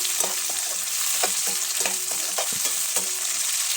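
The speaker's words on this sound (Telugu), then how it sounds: "అవన్నీ లైట్గా ముందు వేపుకొని" Onions and green chillies fry in a pan for a leafy greens stir-fry, a steady close sizzle with repeated stirring scrapes and clicks throughout.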